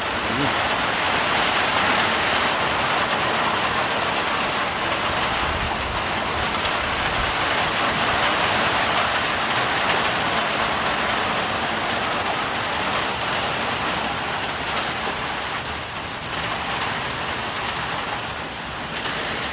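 Heavy downpour in the village of Nadrybie Wieś, a loud, dense, unbroken roar of rain pounding on surfaces close by, steady for the whole stretch and easing only slightly near the end.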